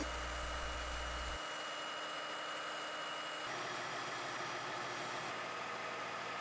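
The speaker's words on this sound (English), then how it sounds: "lower the front stabilizer jack by activating the function select and actuator switches" A Grove TMS 9000E truck crane's front stabilizer jack lowers under hydraulic power while the engine idles steadily nearby, its drone shifting twice as the actuator engages and then settles.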